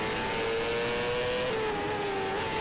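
A motorcycle engine in the racing video game MotoGP 13 on PS3, a Moto2 bike at the Cheste circuit, drones steadily at high revs with a slowly shifting pitch, loud and continuous without any speech.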